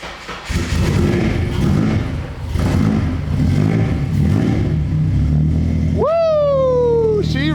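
A Honda K24-powered Civic race car engine cranks and fires up, settling into a loud, close, rumbling idle before a sharp rev climbs and holds near the end.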